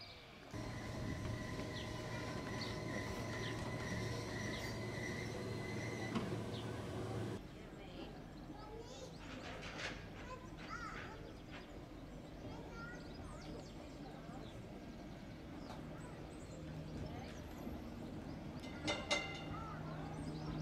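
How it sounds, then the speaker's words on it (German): A Glasgow tram arrives at the Crich Tramway Village museum, with a steady low hum and rumble for the first seven seconds giving way to quieter rolling rattles, scattered clanks and outdoor background with distant voices. "Die Glasgow Tram trifft ein."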